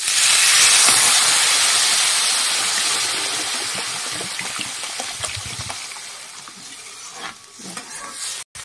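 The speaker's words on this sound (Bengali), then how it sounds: "এবার আমি এর ভেতরে দিয়ে দেবো জল।" Water poured into a pan of hot fried mung dal bursts into a loud hissing sizzle and steam that gradually fades, with scattered stirring clinks near the end.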